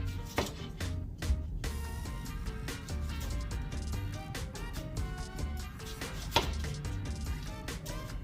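A knife cutting through an onion on a board, with a run of quiet, irregular taps and a few sharper knocks, heard close up with no talk.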